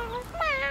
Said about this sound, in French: Regarde, c'est un tout petit chat.